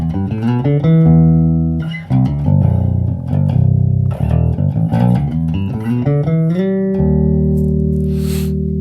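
Carvin SB5000 bass guitar playing bass lines, a loud, steady run of sustained low notes that shift pitch every second or so, ending on a long held tone.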